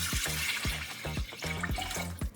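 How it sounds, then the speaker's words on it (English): Water poured into a cooking pot holding rice on a stovetop, a steady splashing stream with a rhythmic, sloshing pulse over about two seconds, close and fairly loud with no talking. "I'm gonna add the water to cook the rice."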